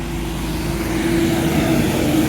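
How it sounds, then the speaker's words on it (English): Big heavy trucks passing on a nearby road, a loud continuous low rumbling engine drone that swells slightly over a couple of seconds with no voices over it. "lots of big noisy trucks going on"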